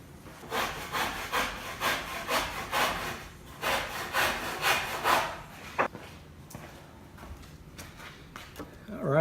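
A handsaw cuts through wood for a charity box in steady back-and-forth strokes, a dozen or so rhythmic rasping passes up close, then a pause with a few light knocks and handling sounds.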